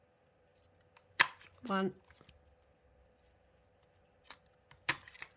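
Scissors cutting out small paper pieces for punch art, heard as a few sharp isolated snips and a short rasping cut, close and quiet, with a voice speaking briefly between them.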